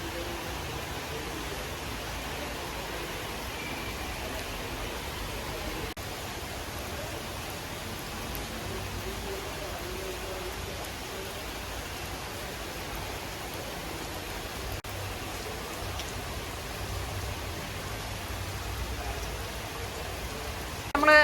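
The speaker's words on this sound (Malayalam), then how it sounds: "ഇന്നും അടുത്തൊന്നും മഴ മാറുമെന്ന് എനിക്ക് തോന്നുന്നില്ല." Steady rain pours down around a new house in rural Kerala, a dense, even hiss with no pauses that holds at the same level throughout, with no voices.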